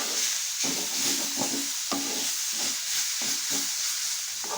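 Ground roasted cumin and coriander are stirred in a hot pan, giving a constant dry sizzle and hiss. Soft scraping strokes from the spoon come in a steady rhythm beneath the frying.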